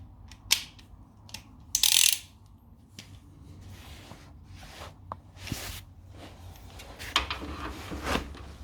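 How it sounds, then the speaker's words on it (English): A bolt being turned on a BMW M2 rear suspension gives close metallic clicks, ratcheting and scraping in irregular bursts, with a few louder clanks between quieter pauses. "And now keep turning the bolt until it pops in on the other side also."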